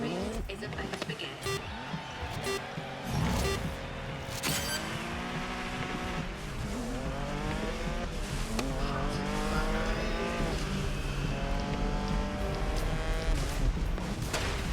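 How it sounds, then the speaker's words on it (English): Race cars on a track in the racing game GRID Legends, engines revving and shifting through rising and falling pitch sweeps with occasional sharp impacts, loud and continuous, with a voice talking over them. "the race is about to begin."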